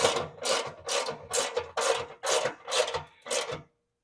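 Bolts on a snowblower are tightened with a hand tool, producing seven evenly spaced rasping ratchet bursts, close and loud, that stop abruptly with no voices.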